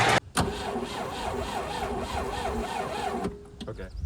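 A 1970 BMW 2002 engine cranks over for about three seconds, a loud rhythmic starter churn after a brief click, then stops and quiet follows.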